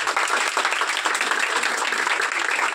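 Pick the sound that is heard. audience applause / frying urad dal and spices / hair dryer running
audience applause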